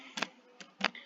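Keys tapped on a computer keyboard while entering a web address, heard as three short separate bursts of clicks, close and fairly quiet, with soft room hiss between them.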